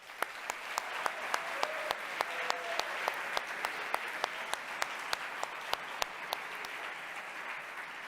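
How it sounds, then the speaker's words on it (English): Steady applause from a crowd at a university hackathon closing ceremony, with clapping filling the space and a few sharper individual claps standing out throughout. "please, a big round of applause for them"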